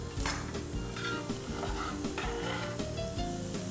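Onion sizzling in butter in a hot pan, with steady frying hiss and a utensil stirring and scraping against the pan, close up and continuous, no talking.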